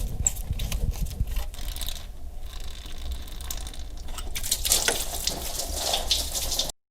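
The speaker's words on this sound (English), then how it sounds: "I'm going to go ahead and crack this upper radiator hose. We're going to get some coolant out of here" Coolant pours and gushes steadily from a cut upper radiator hose on a 1988 Mazda RX-7 FC3S, with small rattling clicks mixed in and a louder splashing surge near the end.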